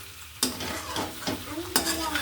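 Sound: mixing vegetable curry in pan

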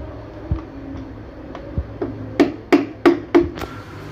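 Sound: steel hammer tapping a Toyota Corolla Altis transmission part

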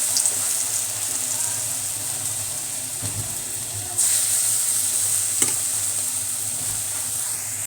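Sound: lentil fritters (dal bora) frying in hot oil

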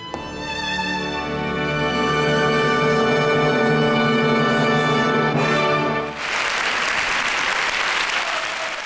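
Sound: audience applause after a ballet performance

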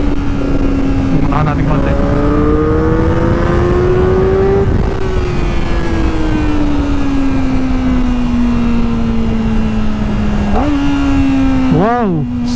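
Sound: Kawasaki ZX4RR motorcycle engine revving, shifting with quick shifter

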